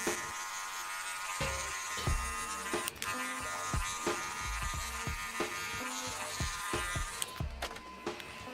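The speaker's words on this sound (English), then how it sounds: "grab my number 1 guard, opening and closing my lever to buff out any lines of demarcation" Electric hair clippers fitted with a number 1 guard buff out a fade, giving a steady close buzz. The drone is broken by repeated soft clicks and taps as the lever opens and closes.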